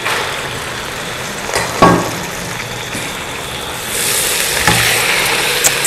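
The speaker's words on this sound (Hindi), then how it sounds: "इसको ज़रा भूनते हैं लहसुन अदरक में।" Loud, steady sizzling of chicken frying in garlic and ginger in a hot pan, with occasional stirring clatter and a surge of hissing near the end.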